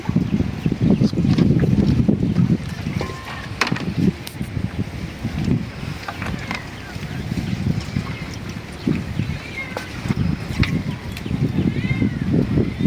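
Wind buffets the microphone in low gusting rumbles that rise and fall during outdoor cooking on a pond bank, with scattered clinks and handling noises as fish is spiced.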